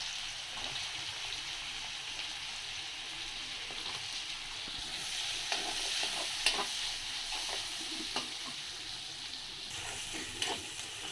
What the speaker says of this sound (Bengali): এবার আমি পেঁয়াজ কুচি আর কাঁচা লঙ্কা কুচিগুলোকে দিয়ে দেবো।